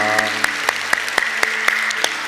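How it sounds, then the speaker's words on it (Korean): A church congregation claps together in a short burst of applause, the claps landing in a fairly even rhythm over a sustained instrumental backing. "우리 그냥 하나님께 영광의 박수 한번 돌리겠습니다"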